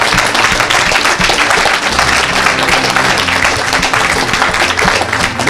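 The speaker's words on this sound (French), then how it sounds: "Est-ce que tu peux acclamer?" A church congregation applauds and cheers during a service, with a dense, steady roar of clapping and voices from a crowd that holds at an even level throughout.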